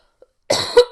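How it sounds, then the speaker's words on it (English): A single harsh, close cough from a person recovering from illness, after a brief silence, loud and raspy. "and I'm still coughing"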